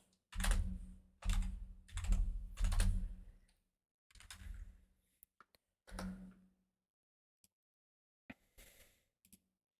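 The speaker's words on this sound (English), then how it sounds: "Why am I typing with one hand?" Quick bursts of typing on a computer keyboard, several clustered clattering runs followed by a few sparse, isolated key taps, close up and otherwise quiet.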